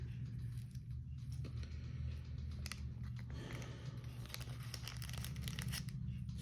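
Small plastic bags of beads are handled and rustled close by, with crinkling and crackling bursts over a constant low background hum.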